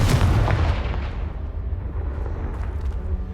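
A Confringo blasting spell explodes in the Hogwarts Legacy video game: one loud, close boom with a heavy low-end burst at the start that rumbles and decays into a long, noisy tail.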